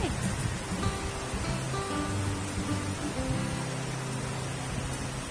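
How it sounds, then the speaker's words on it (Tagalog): Typhoon Hanna's strong wind and rain blow in a constant broadband rush, with gusty swells and a low rumble under the steady downpour. "Ayan guys, napakalakas ng hangin dito."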